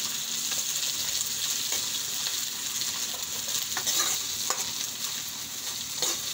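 Chopped vegetables with capsicum being stir-fried in a pan for homemade noodles give off a continuous hiss and sizzle, broken by a few sharp scrapes and clinks of the spatula as they are stirred.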